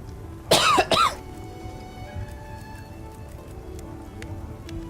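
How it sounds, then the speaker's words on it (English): A person gives two quick, close coughs, followed by faint steady background noise with small ticks. "I can hear you cough."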